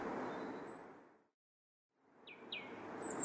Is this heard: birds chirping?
yes